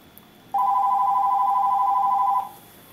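A telephone rings with one steady electronic tone lasting about two seconds, loud and close over a quiet background, then cuts off.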